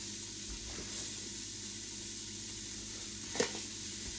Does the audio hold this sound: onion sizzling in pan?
yes